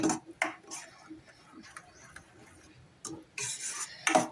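A spoon stirs and sautés masala gravy for kaju masala in a pan, giving intermittent scraping and tapping strokes, some louder bursts toward the end, with quiet gaps between.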